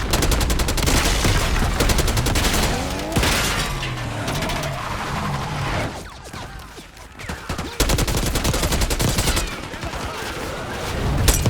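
Sustained volleys of gunfire as a squad opens up at a palace gate, dense overlapping automatic bursts and shots filling the scene loudly, briefly thinning near the middle before resuming, with shouted voices mixed in.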